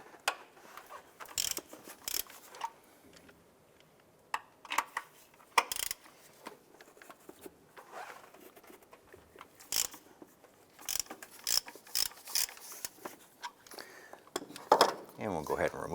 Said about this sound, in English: Using a 17mm socket and extension, I'm going to go ahead and loosen these two